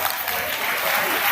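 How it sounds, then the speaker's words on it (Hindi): A dense, steady wash of audience applause from a large crowd at a club district meeting fills the moment, loud and continuous throughout. "आपको बहुत बहुत जोरदार तालियां दीजिए"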